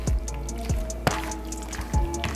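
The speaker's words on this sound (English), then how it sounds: "we're gonna add 2 eggs to the shrimp. And we're gonna give it a good mix." Two raw eggs are mixed into raw shrimp in a bowl, giving wet squishing and slapping strokes in a loose rhythm. The sound is close and clear, with no talking.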